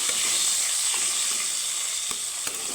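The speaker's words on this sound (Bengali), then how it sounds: "একটা কুচনো টমেটো টমেটো টমেটোটাকে আমি একটু হালকা ভেজে নেব" Chopped tomato lightly fries in a pan with black cumin seeds, a steady close sizzle and hiss punctuated by a few soft stirring taps.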